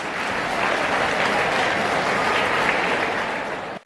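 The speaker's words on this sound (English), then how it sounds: "is led by Hazeeb Ahmed of 12th Standard, you may stand up and receive the applause of the entire audience." School audience applauding a debate team in an auditorium, loud sustained clapping from a large crowd that holds steady for several seconds and then cuts off abruptly.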